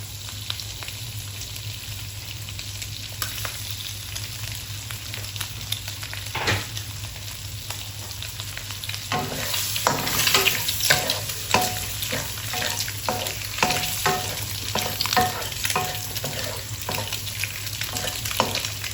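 Eggs fry in a pan with spinach for an egg and spinach dish, a steady close sizzle that grows louder and crackles more busily partway through, with stirring scrapes and no talking.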